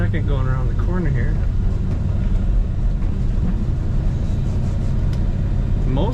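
A 1950 Mercury two-door street rod held in second gear through a corner, its engine giving a steady, loud low rumble from inside the cabin, with a voice talking over it near the start and near the end.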